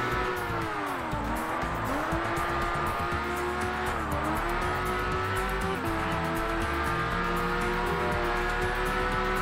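A Lamborghini race car in a racing video game roars steadily close up, the engine pitch dipping and climbing through gear changes while tires squeal beneath it, with no break in the noise.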